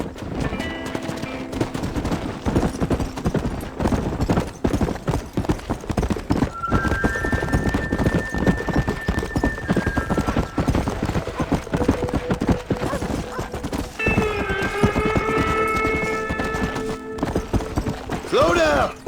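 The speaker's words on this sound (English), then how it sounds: "Look at these here horses." Horse hooves clip-clop steadily in the Red Dead Redemption video game, mixed with game music and tonal sounds, with voices talking over them throughout.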